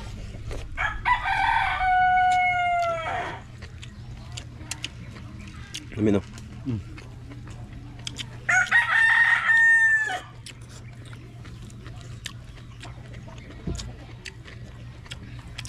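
A rooster crows loudly and close by twice, each drawn-out call a few seconds long, with brief speech and quiet background between them.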